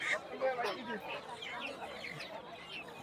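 Hens and roosters cluck and call at a busy Bangladeshi poultry market, the birds' chatter mixed with nearby voices talking over the crowd noise.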